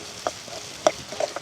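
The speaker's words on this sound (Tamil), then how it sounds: "இப்போ வந்து அப்படியே கிளறி விட்டுட்டு வெங்காயம் அதோட வந்து சித்தல் மிளகாய் கருவேப்பிலையும் போட்டுக்கொள்வோம்" Onions, dried chillies and curry leaves frying in a pan and being stirred, giving a soft sizzle with a few distinct scraping knocks of a spoon, brief and close.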